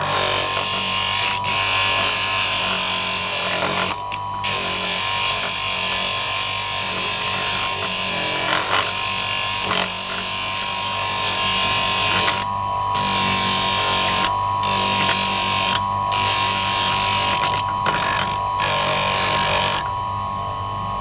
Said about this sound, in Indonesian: Nah, sekarang kita haluskan seluruh permukaannya.